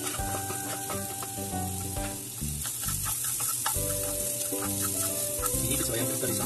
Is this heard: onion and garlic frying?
yes